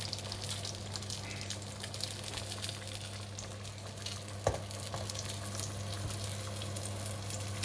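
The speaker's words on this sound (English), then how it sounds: "I have to dump in the pasta now" Pasta tipped into a pan alongside frying salmon, giving a steady, close sizzle throughout with a single sharp clunk midway and faint stirring scrapes, no talking.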